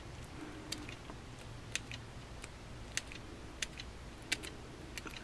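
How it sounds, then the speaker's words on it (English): Sharp scissors make a series of crisp, faint snips on paper while cactus thorns are cut, about eight short clicks spaced roughly evenly over a quiet background hum. "get the nice sharp pair of scissors, and individually you need to snip this like this."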